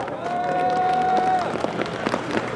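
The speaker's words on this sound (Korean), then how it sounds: "정용기 전 국회의원의 강열찬 연설에 힘찬 격려의 박수 부탁드립니다" An outdoor campaign rally crowd applauds for former lawmaker Jeong Yong-gi's speech in Daedeok, Daejeon, with a sustained tone ringing through the first half as the clapping continues.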